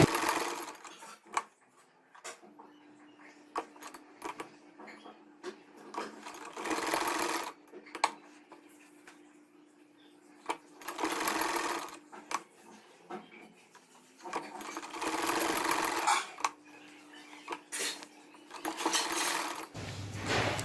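Stitching a salwar poncha (mohri) hem with cube design on a sewing machine: repeated close runs of rapid mechanical whirring, broken by pauses with fabric handling and clicks.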